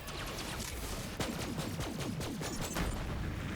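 Shotgun fire in the video game Borderlands 3, a rapid series of blasts and impacts over dense, continuous game noise, fairly loud and busy throughout.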